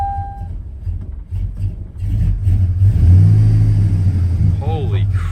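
High-mileage truck engine coughing to life and running rough, as if firing on one cylinder, with an uneven low rumble swelling into a steadier drone; people talk over it.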